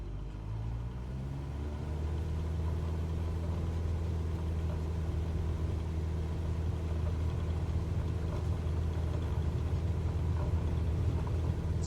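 A Cessna 172 single-engine plane at an uncontrolled airfield revs up, and its piston engine settles into a loud, steady, close drone that runs unbroken throughout.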